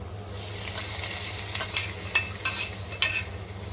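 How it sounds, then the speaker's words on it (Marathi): Fried garlic tipped into beaten eggs and stirred in a pan, a soft sizzle running throughout with a few sharp scraping strokes of a spoon toward the end, close and fairly quiet. "आता हा लसूण आपण अंड्यामध्ये ओतायचा आहे"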